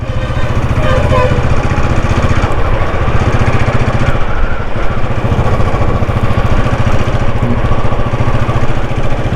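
A steady, loud engine drone comes from an ex-army motorbike while it is ridden, running smoothly with a constant throbbing pulse and no break for the whole stretch.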